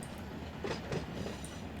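A train rolls along in the Run8 Train Simulator game with a continuous low rumble and rail noise. A couple of soft clanks from the wheels rise briefly in the middle at an even, moderate level.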